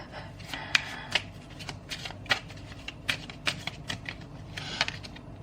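Tarot cards being shuffled by hand in a series of crisp riffling snaps and soft slides at an uneven rhythm, close and fairly quiet.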